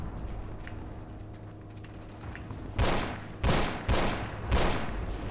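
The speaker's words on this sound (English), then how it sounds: "there was that our machine gun?" Machine-gun fire in the video game Forgotten Hope 2, heard as four loud, close bursts of gunfire, each about half a second long with a short pause between, over a low steady background rumble.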